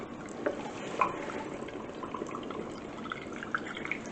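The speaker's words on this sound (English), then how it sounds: "So the tail end's dripping in the other jar there, which is good." Beef stew drips faintly from a ladle or jar rim into a glass canning jar, a few soft, scattered liquid plinks over a quiet kitchen background.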